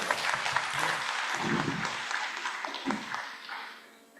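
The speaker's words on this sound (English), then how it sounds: "Can we give her a big round of applause?" An audience at the Filipino Diaspora Summit applauds a speaker, with dense, mid-loud clapping from many hands that swells and thins in waves and then fades out over about four seconds.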